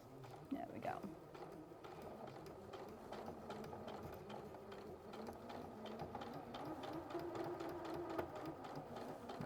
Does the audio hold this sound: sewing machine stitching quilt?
yes